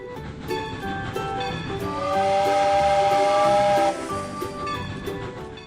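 A cartoon steam train gives a loud, sustained whistle over a steady hiss of steam, swelling in the middle and then cutting off, with the chugging hiss carrying on faintly afterward.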